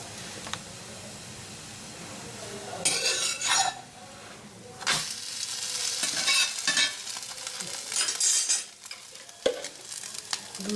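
An egg paratha frying in ghee on a pan, a low sizzle broken by bursts of louder spattering hiss and clinks and scrapes of a utensil against the pan, close by, no voices.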